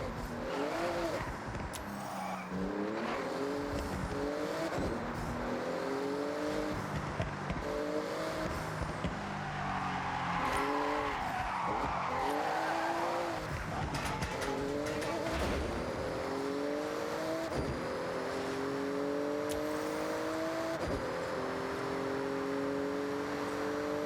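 Porsche engine revving hard in a racing video game, rising and falling gear-shift whines repeating over roughly twenty-four seconds, with tire squeal and skidding mixed in at a steady moderate level.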